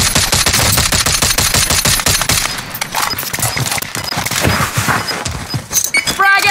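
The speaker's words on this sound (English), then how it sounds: "Taking fire over here." Rapid automatic gunfire rattles in Call of Duty Warzone, a dense loud burst of shots for the first few seconds followed by scattered impacts, game sounds and a voice.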